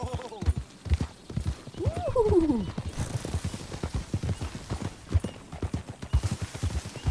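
Steady clip-clop of horse hooves trotting in the video game Red Dead Redemption 2, with a horse whinnying briefly and voices talking over the rhythmic hoofbeats.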